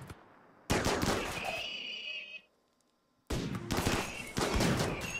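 Gunfire in the colony-defense video game RimWorld comes as two long, dense volleys of rattling shots separated by a short lull, fairly loud and with no talk over it.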